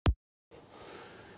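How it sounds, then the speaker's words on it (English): A single short, dry kick drum hit with little low end, followed by silence and then a faint, low background texture. "So you have basically the same kick but without all the basses,"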